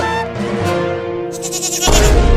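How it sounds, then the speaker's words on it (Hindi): A baby goat bleats loudly and close by in a quavering, drawn-out cry that wavers in pitch before breaking into a rougher, noisier burst at the end, with no talk over it. "अरे वाह, बकरी का बच्चा"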